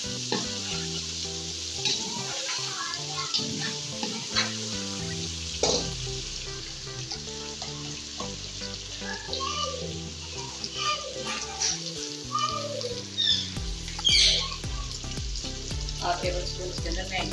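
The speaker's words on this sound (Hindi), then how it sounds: "लहसुन पेस्ट डाल दिए। हल्का सा हमने इसमें ब्राउन कर दिया" Garlic paste frying and being stirred in a pan while a chicken and white chickpea curry is cooked, giving a steady close sizzle with scraping stir strokes throughout and no talk.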